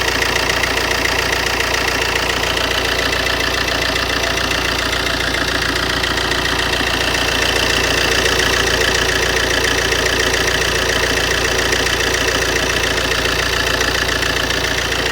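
A car engine idles steadily and loudly throughout, close by, with a continuous low rumble and no talking.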